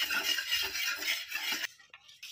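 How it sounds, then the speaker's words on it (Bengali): White cooking oil poured into a hot pan for a semolina snack gives a bright, hissing sizzle up close that runs steadily, then cuts off and leaves a few fainter crackles. "গরম হয়ে গেছে, এবার আমি সাদা তেল দিয়ে দিচ্ছি।"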